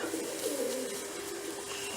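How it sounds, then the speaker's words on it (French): Pigeons cooing on a farm alongside ponies, a steady soft cooing that continues throughout at moderate distance, with no talk over it. "Ah, des pigeons."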